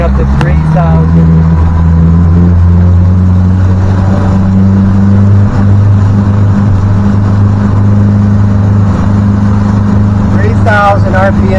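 A Yamaha 70HP outboard motor runs at about 3,000 RPM on a MacGregor 26X sailboat, giving a loud, steady, close drone with a strong low hum that holds level throughout, with a faint voice briefly over it.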